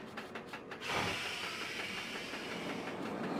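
Roller coaster train in Planet Coaster rolls off after a few clicks, then a steady loud rushing rumble with rhythmic clatter carries on.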